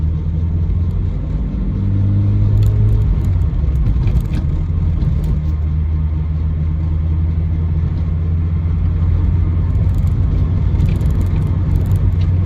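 A Peugeot 205 GTi 1.9 engine idles with a steady low rumble, a continuous fuel pump hum running over it the whole time, close and unchanging.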